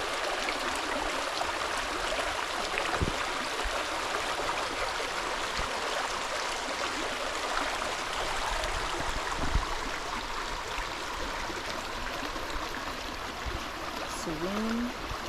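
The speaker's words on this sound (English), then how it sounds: "Some nice little cascades running down here." A small stream tumbles down little cascades along a hiking trail, a steady close rushing and trickling wash that holds throughout with a few faint knocks and a brief chirp near the end.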